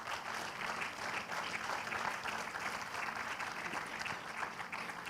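An audience at a smart technologies conference claps steadily, a dense, even wash of applause that holds for several seconds with no talk over it.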